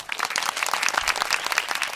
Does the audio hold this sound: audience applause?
yes